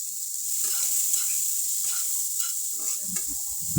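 Chopped carrots sizzle steadily in fried rice in a hot pan, with soft scraping stirs now and then and a few louder clatters of the spoon near the end, no talking.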